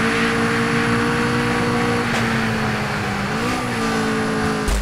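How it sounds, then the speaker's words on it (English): In the racing game Super Street The Game, a Subaru with a swapped 2JZ engine holds a loud, steady high-revving drone. The pitch dips briefly and climbs again partway through, with no talk over it. "one of the things they were supposed to change is the engine noise"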